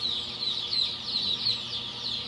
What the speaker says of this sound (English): You're just always looking at the chicks, always taking care of chicks.